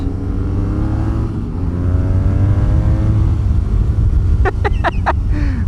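A BMW R nineT motorcycle engine drones loudly and steadily, its pitch climbing and dropping as it is ridden through the gears, heard close from the rider's position, followed by a few sharp clicks near the end.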